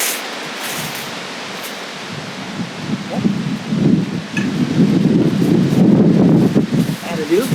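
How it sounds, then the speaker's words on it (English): Strong outdoor wind buffets the microphone with deep, rumbling gusts that swell louder toward the end, during a seaweed pit firing of pottery. "It is a little bit windy today"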